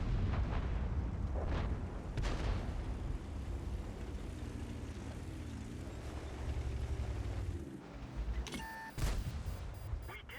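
A Pershing tank's cannon in World of Tanks fires a few heavy booming shots early on, followed by a steady low engine rumble and a sharp crack near the end.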